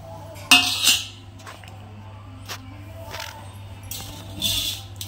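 A plate is handled amid other dishes, giving a few sharp clinks and clatters with quiet pauses between them over a steady low background hum.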